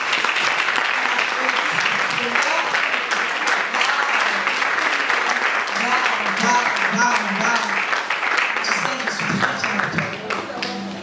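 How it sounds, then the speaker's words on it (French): An audience at a healing workshop gives a long, steady round of applause, dense clapping throughout with a voice speaking over it for part of the time. "j'aimerais qu'on applaudisse"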